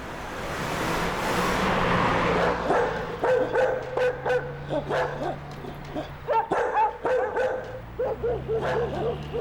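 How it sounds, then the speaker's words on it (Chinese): Fierce stray dogs bark in repeated sharp, yappy bursts at close range, several barks overlapping in an irregular rhythm over a low background hum, with no talking. "这里很多流浪狗的，他们很凶的"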